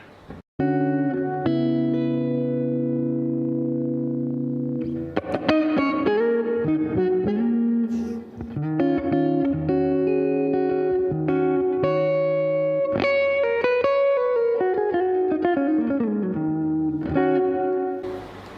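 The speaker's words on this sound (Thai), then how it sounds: "ลองเพิ่มรีเวิร์บเยอะๆเลยนะครับนะฮะสักหกเจ็ดเลย" Electric guitar played through a Bugera V22 Infinium tube amp with heavy reverb, sustained chords and single notes ringing out with long, washy tails, loud and alone with no talking.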